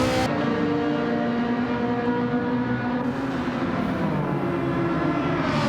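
A race car in Gran Turismo 7 drives in a daily online race, its engine droning steadily with a shift in pitch partway through, loud and continuous with no talk.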